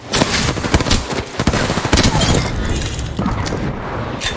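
Rapid gunfire in a shooter video game, dense and loud, with bursts overlapping booms, while a voice calls out briefly in the mix.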